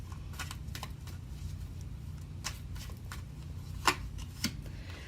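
A deck of tarot cards being shuffled and drawn gives soft riffling flicks and shuffles, with a couple of sharper snaps as cards are pulled, close and quiet.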